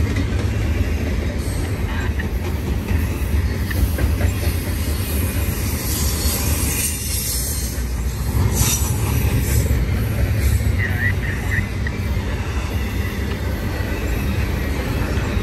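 BNSF eastbound intermodal freight train carrying international containers rolls past at Rana, California, a loud, steady rumble of wheels on rail with intermittent squeals, heard close throughout.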